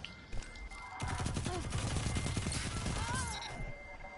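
Rapid automatic gunfire in the video game Destiny 2: a dense burst of close, punchy shots lasting a couple of seconds, with game sounds before and after.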